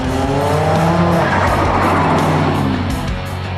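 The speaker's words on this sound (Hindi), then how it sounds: "मुझे लगता है कि इसकी पावर चेक करने के लिए हमें एक राइड लेनी चाहिए।" A modified turbocharged Mitsubishi Lancer accelerates, its engine a loud continuous roar with rising harmonics and a brief tire squeal, heard from close by with no talking.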